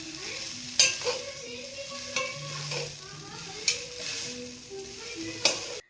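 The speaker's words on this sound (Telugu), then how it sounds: "నూడిల్స్‌ని వేసుకొని ఫాస్ట్ ఫుడ్ స్టైల్‌లో బాగా కలుపుకుంటూ ఒక 2 మినిట్స్ వేయించాలి." Chicken noodles stir-fried fast-food style in a pan, with a steady sizzle under repeated scraping and tossing of the spatula at a close, moderate level.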